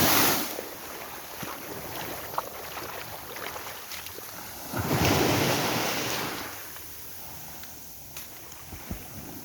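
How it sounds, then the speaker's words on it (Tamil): Calm sea water laps gently after a storm, a steady broadband wash with a slightly louder surge midway, rising and easing with soft wind noise and no talking. "அலை அடிக்காமல் அப்படியே தண்ணி மெதுவாக அலை அடிக்கும்"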